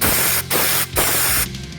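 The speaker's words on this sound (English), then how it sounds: "Nozzle right into the drain hole there, and put the air pressure there." Compressed air from a nozzle blasts into the sunroof drain hole of a Dodge Ram pickup in three short, loud hissing bursts, separated by brief pauses and heard up close.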